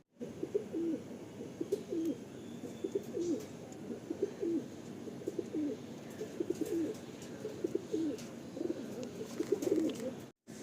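Pigeons of a fine breed kept for sale, a pair just released, cooing steadily in a close, continuous rhythmic burble, with faint chirps and occasional soft rustles above it.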